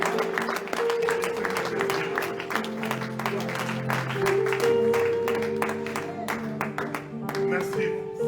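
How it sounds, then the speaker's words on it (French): A church congregation at a praise worship service claps in rhythmic, sharp bursts over sustained music and singing voices, loud and close throughout. "Applaudissons pour le roi des rois."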